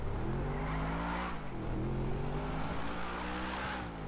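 A car launching and accelerating in GTA V, its engine note climbing in a steady rising whine with a brief dip as it shifts, close and loud over a dense rumble, with no voices.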